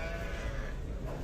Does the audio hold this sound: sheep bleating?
yes